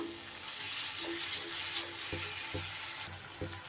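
Spices fry down in a pan for a katla fish curry with curd and cauliflower. A close, constant sizzling hiss carries on throughout, broken by a few soft clinks of a spoon against the pan.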